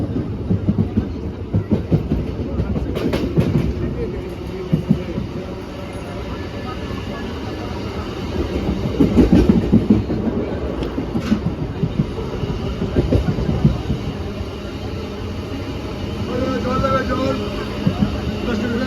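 Passenger train running on the rails near Barrackpore, heard from inside: a continuous rumbling roll with rhythmic clickety-clack beats and occasional sharper rail clanks, with voices faintly underneath.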